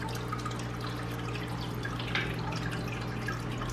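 Water trickles and drips into a 55-gallon planted aquarium, a steady close splashing over a constant low electrical hum, with no voices.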